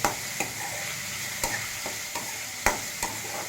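Vegetables such as potato, carrot and beans frying in a pan for a quick breakfast dish, a soft steady sizzle broken by sharp, evenly spaced clicks of a spatula against the pan.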